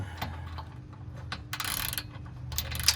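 A 19 mm socket on a ratchet wrench works a bolt loose from a Rusty's Offroad skid plate under a 2.0L engine, giving close, intermittent metallic clicking with a denser run of ratcheting midway.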